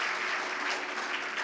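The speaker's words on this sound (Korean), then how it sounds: "우리 박수로 한번 환영하겠습니다" Korean church congregation clapping to welcome a visitor, a brief, even wash of many hands applauding together in the sanctuary.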